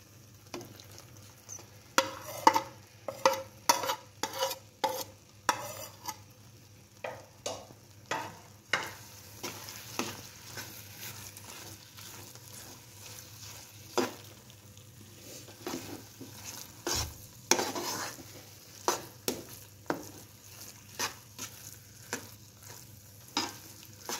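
Pumpkin halwa being stirred with cooked semolina in a pan, repeated scraping and tapping strokes of a spoon in an irregular rhythm over a faint low sizzle, close and moderately quiet, with no speech.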